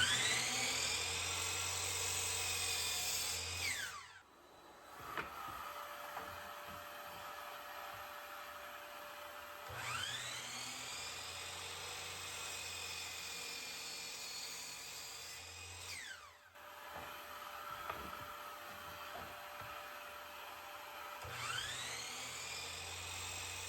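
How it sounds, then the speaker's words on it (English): A Hercules dust extractor in a workshop, heard as a high, whining motor that runs in three long bursts, each starting with a quick rising whine and ending with a spin-down to a lull, close and fairly loud. "I'm gonna turn on the Hercules dust extractor"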